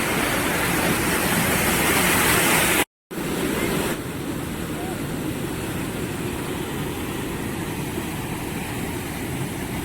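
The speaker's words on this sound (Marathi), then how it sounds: "रौद्र रूप आलेला आहे, बघू शकता तुम्ही धबधब्याला." Doodhani waterfall near Akola in full spate roars as a dense, continuous rush of falling water, loud and close, broken by a brief dropout and then continuing slightly softer.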